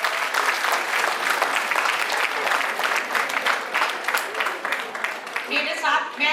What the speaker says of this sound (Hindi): we deserve a huge round of applause from all of you